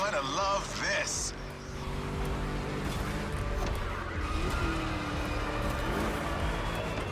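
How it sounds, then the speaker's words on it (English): A V8 car engine in the racing video game The Crew Motorfest rumbles and revs continuously with tire and road noise, while a person talks over it throughout. "Just listen to that V8 like a chunky, down-tuned guitar riff."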